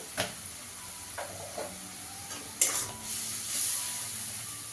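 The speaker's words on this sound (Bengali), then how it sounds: "ভালো করে মশলাটাকে কষিয়ে নেব।" Masala spices with chili powder being fried and stirred in a pan for a taro and potato curry, a low sizzle punctuated by a few scraping spoon strokes and clinks, close and without talk.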